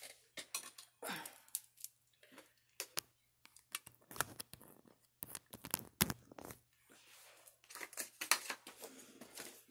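Playing cards are gathered up from the floor, giving scattered soft slaps, scrapes and rustles in irregular bursts, close by and fairly quiet, with no talking.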